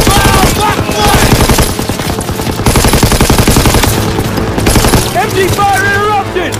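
Sustained machine gun covering fire in Call of Duty WW2's Battle of Hurtgen Forest, Hill 493, rattles in fast, loud continuous bursts close by amid battlefield din, with soldiers' voices calling out over it.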